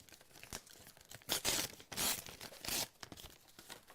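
A slip of paper is torn by hand while a clay teapot lid is being fitted, giving several short, sharp ripping bursts in quick succession, close and fairly loud, with no talking.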